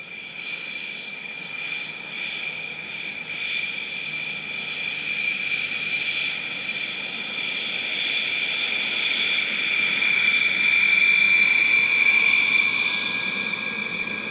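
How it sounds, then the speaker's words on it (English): Rafale M fighter jets and a TF-51D Mustang fly an airshow display, producing a sustained whining engine drone with steady high tones that slowly grows louder, heard from a distance with no talk. "The display began with a trio of Rafale M's from Flottille 17F, based at Landivisiau, flying with TF-51D Contrary Mary"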